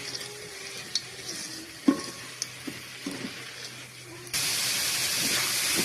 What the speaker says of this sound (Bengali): ডালটাকে এখন একটু ভেজে নেব মশলার মধ্যে।